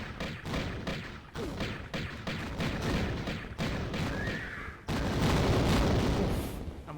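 An explosion in Tomb Raider (1996) arrives as heavy booming thumps among rapid gunfire-like bursts, ending in a loud sustained blast.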